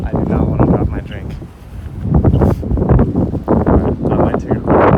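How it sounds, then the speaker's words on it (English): Strong wind buffets a microphone in a windy, tunnel-like outdoor spot, producing loud, rumbling gusts that surge and ease in uneven waves throughout. "It is windy. I'm in this wind tunnel."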